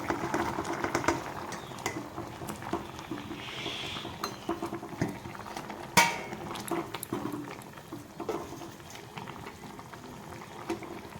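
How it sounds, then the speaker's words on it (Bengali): Boiling curry water for an egg and potato dish bubbles steadily in a pot, with fried egg fritters dropped in. Faint clinks of a utensil against the pan sit under the simmer, and one sharp knock stands out midway. "জল ফুটে গেছে তো দিয়ে দিব করে রাখা বড়াগুলো"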